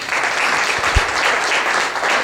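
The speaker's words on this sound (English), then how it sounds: "Can you please clap for him" Sustained audience applause at a book launch, dense and steady clapping from a crowd filling the whole stretch at even loudness, with a brief low thump near the middle and no talk.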